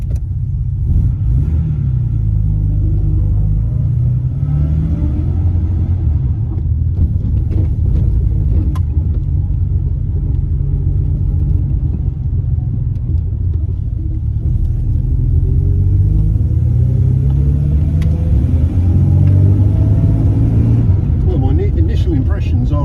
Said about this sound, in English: we're going to start her up and we're going to take her for a spin